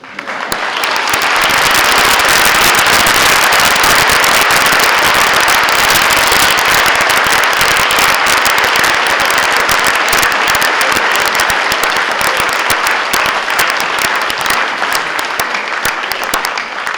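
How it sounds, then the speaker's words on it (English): Loud, dense applause from an audience fills a school auditorium during a National Junior Honor Society induction ceremony, a sustained roar of many hands clapping at once, steady and undiminished for the whole stretch. "You can applaud him."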